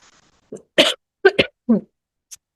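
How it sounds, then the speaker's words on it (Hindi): A person coughs several times in short, harsh bursts, close and loud, with brief pauses between them. "खांसी हो रहा है इधर"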